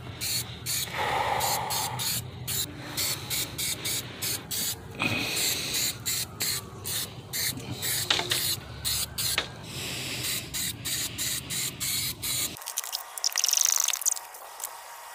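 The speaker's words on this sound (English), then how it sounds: "So what I'm gonna do is go ahead and just spray this on." Spray coating hissing onto stock car wheels in steady bursts, close and fairly loud, ending in a short pause and a final brief spray.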